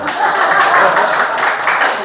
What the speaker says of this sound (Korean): 자, 위로의 박수를 좀